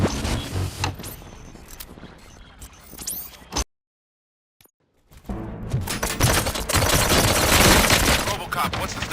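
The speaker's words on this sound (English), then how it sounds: "Gunshots? What's going on?" Bursts of rapid gunfire crackle through a busy soundtrack in the video game RoboCop: Rogue City, cut by a sudden silence, then a dense, loud volley of shots resumes.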